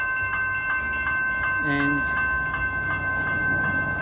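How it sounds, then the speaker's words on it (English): A train passes near a creek walking trail in Seaford, its steady rumble and rail noise joined by a brief horn tone, with a person saying a word. "as you can hear, there's a train coming"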